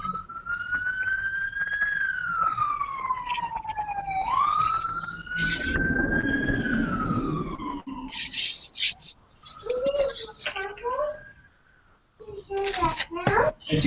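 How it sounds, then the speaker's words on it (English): An ambulance siren wails outside, its pitch sweeping slowly up and down at moderate distance, with children talking over it and the siren breaking off before resuming briefly. "Nope, that's an ambulance."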